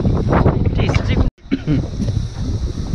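Gusty wind buffets the microphone on a boat while fishing in the Clarence Estuary, loud rumbling roar with a brief dropout midway, and a person speaks over it.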